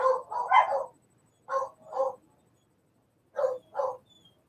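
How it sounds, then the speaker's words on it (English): A dog gives a series of short howling, woo-like vocal bursts in a quiet room, in three clusters separated by pauses, fairly close and clear. "can you hear the dog singing?"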